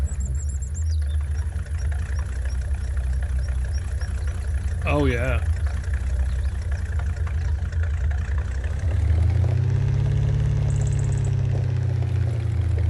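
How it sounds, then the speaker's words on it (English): Truck engine idling in a video game, a steady low rumble throughout that swells louder and rises in pitch near the end, with a brief squeal midway and someone speaking briefly over it. "I'm sure if they could just get the engine sounds to sound a little bit better in this game, it would be great."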